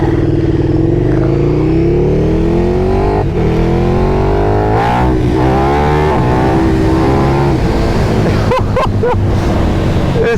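A KTM 1290 Super Duke R motorcycle engine pulls hard under acceleration, its loud rising roar climbing steadily in pitch with brief dips between gears, close and continuous throughout.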